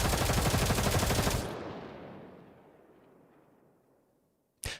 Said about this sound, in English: However, the laughter is soon interrupted by the sound of gunfire.